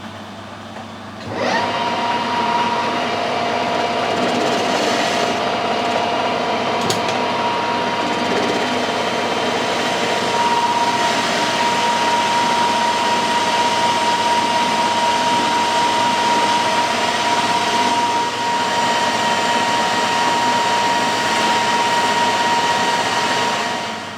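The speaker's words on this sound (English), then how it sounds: "We'll take a cut full length at first, and I'll be able to measure both ends and make sure the lathe's cutting through" A mini lathe taking a full-length cut along a metal bar: a motor starts, then a steady whining hum with a thin tonal line runs unbroken and winds down at the end.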